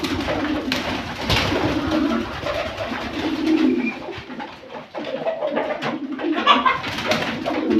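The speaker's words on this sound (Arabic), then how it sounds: "الحمام عمال بيطير" Pigeons coo repeatedly in a coop where birds are flying about, soft throaty calls layered with flapping and rustling ambience, close and continuous.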